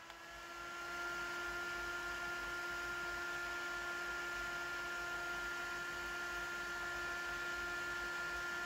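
A DIY soldering fume filter fan spinning up to max speed, settling into a steady, loud airy whoosh with a constant whining motor tone.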